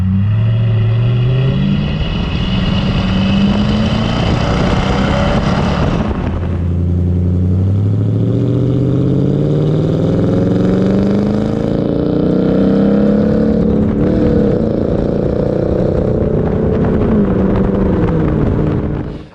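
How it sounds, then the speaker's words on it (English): A deep, throaty Toyota Tundra exhaust with an aftermarket Flowmaster dual-exit system revs up and down repeatedly, loud and close, with rising and falling engine pitch throughout and no talking. "the aftermarket exhaust is not loud, it's not obnoxious, but it does have a throaty tone"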